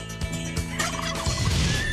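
A turkey gobbles loudly and close by, its rapid warbling bursts repeating over about two seconds with no talking.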